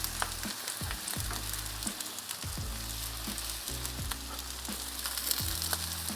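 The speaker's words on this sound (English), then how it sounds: "We're going to let it tick away slowly, kind of grill down, start to crispy up before we flip anything over" Slices of black and white pudding fry in oil on a Blackstone 28-inch griddle, giving a steady, close crackling sizzle that lasts throughout over a stepping tonal background melody, with no voices.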